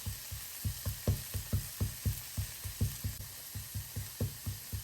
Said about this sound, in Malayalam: നടുഭാഗത്ത് കുറച്ച് എണ്ണ ഒഴിച്ച് അതിലേക്ക് നമ്മൾ 1/2 ടീസ്പൂൺ കുരുമുളക് പൊടിയും 1 ടീസ്പൂൺ മല്ലിപ്പൊടിയും ചേർക്കുകയാണ്